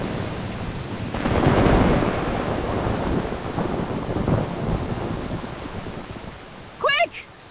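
In an audio drama, a violent thunderstorm rumbles with deep rolling thunder over a steady wash of heavy rain, and a brief high cry cuts in near the end.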